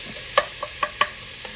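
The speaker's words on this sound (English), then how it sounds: "And then we'll go in with the ground meat and the garlic." Ground meat and garlic frying in a pan for old-school beef goulash, a close, steady sizzle broken by several distinct scraping stirs of a utensil.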